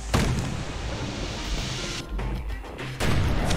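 Heavy gunfire from guns aimed at a boat in the video game Bastion, a dense, loud barrage of booming shots and crashes that drops off briefly before surging back, with no talking.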